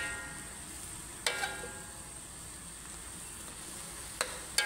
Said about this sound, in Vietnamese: Đảo qua đảo lại khoảng 5 phút nữa là nó sẽ chín đều ha.